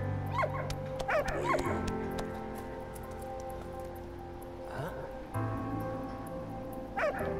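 A dog barks and yips in the World War I video game Valiant Hearts: The Great War, several sharp barks at the start, then a whimper and another bark near the end over a steady background hum.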